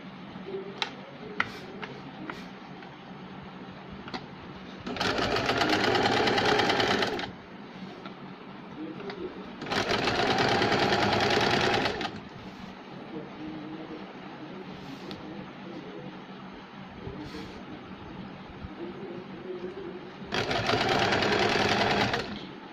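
An electric sewing machine stitches a saree fall in three loud bursts of rapid mechanical chatter, separated by quieter stretches of handling, rustling cloth and small clicks.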